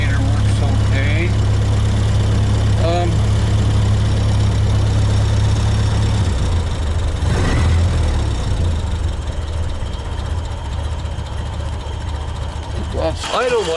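A 1931 Ford Sedan engine idles steadily at low revs with a deep, loud, slightly knocking throb running throughout, while someone talks over it.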